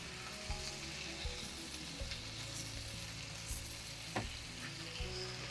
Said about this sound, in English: we're going to saute all of our vegetables up until they're nice and done